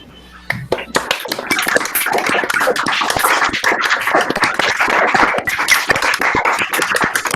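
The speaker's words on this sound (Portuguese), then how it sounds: "Vou convidar todo mundo que quiser para desmutar o microfone e agradecer a Celina com a salva de palmas." Participants in an online meeting clapping through their unmuted microphones, a dense uneven patter of many separate claps after a soft opening, close and somewhat harsh, continuing steadily to the end.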